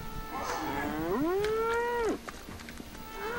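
A single long, drawn-out cow moo in the video game Conker Live and Reloaded, sliding up and then down in pitch, clear over a quiet game background.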